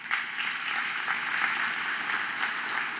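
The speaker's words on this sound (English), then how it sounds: "So you all deserve a nice warm round of applause." Warm, steady audience applause at a State of the City address, a continuous even patter of many hands at moderate loudness.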